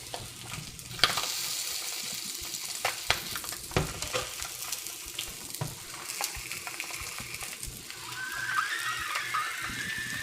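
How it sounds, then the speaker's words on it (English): Spam slices sizzling and spitting in a hot pan, a steady crackle with occasional sharp pops and clinks of a utensil. "the fat out of this can kind of splatter like it can with bacon"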